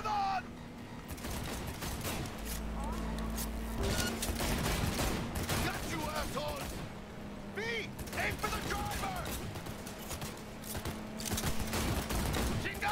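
Rapid bursts of gunfire in the video game Cyberpunk 2077 crackle among mechanical clatter and a low engine drone, with voices talking throughout.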